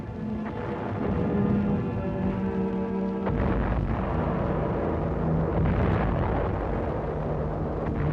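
A WWII ammo dump on Angaur being hit by mortar shells: a rumbling boom swells and rolls on, with a second heavy burst about three seconds in and a long, loud, thundering roar after it.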